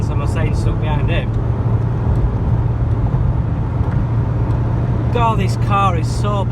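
A car drives along a country road with a steady, loud engine and road rumble throughout, overtaking a van, while someone talks over it near the start and end.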